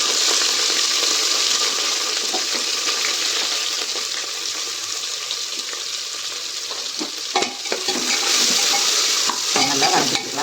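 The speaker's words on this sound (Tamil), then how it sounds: "இப்போ வெங்காயம் நல்லா வதங்கி வரட்டும்" Onions, green chilli, cashews and spices sautéing in hot oil for broccoli pulao, a steady broadband sizzle with stirring scrapes, louder near the end and nothing else heard.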